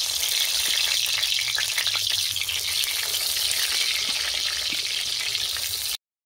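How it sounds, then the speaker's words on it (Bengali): Eggplant frying in hot mustard oil in a kadai, a loud, steady, close sizzle with crackling pops throughout, ending abruptly in silence. "তেল গরম হয়ে গেছে, বেগুন দিয়ে দেবো"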